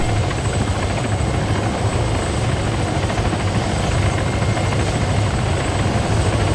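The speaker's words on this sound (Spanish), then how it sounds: "A ver cuántos cabemos en este helicóptero." Helicopter engine whine and rotor thump from the ArmA 3 video game, a loud, steady, continuous drone that stays close throughout with no talk over it.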